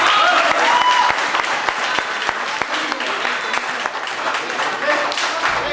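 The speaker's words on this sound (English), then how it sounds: "Big round of applause, please." A crowd in a martial arts dojo breaks into loud, sustained applause after a fight, with rapid overlapping claps filling the room and some voices mixed in.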